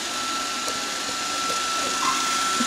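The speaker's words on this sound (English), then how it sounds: "Chase the Roomba some more." A Roomba robot vacuum runs across a home floor, giving a steady mid-level whir with a faint thin whine. The motor hum stays continuous and fairly close, with no talk over it.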